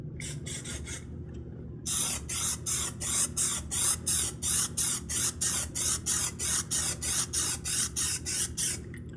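Armor All Custom Shield coating sprayed from an aerosol can onto a panel: a short burst, a pause, then a long run of quick, evenly pulsed hissing sprays, close and steady, with no talk.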